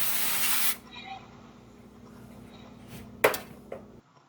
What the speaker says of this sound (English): So spray your pan really good.